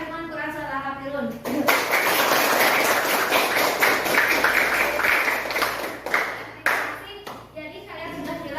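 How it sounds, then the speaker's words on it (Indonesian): Applause from a classroom of students for the groups who presented on Quran Surah Al-Kafirun, several seconds of dense, steady hand clapping with a teacher's voice before and after. "tepuk tangan untuk semua kelompok yang telah ke depan mempresentasikan isi kandungan Quran surat Al-Kafirun"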